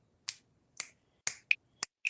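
Six crisp finger snaps ring out alone in a quiet space, evenly spaced about a third of a second apart, each sharp and close.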